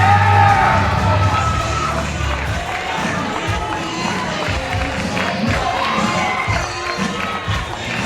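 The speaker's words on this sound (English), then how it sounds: "Listen to that crowd." A wrestling arena crowd roars and cheers steadily throughout, with children's shouts and whoops rising out of the dense, loud crowd noise.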